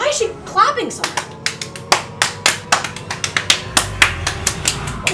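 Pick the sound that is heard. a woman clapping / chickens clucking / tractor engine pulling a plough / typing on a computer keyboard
a woman clapping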